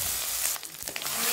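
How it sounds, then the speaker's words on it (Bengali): Ground spice paste that was roasted and then ground, frying in a pan over low flame, a steady bright sizzle lasting throughout with a slight dip in the middle, close and continuous with no talk. "মশলাটা দিয়ে দিয়েছি, এবার এটাকে একটু ফ্রাই করে নেব।"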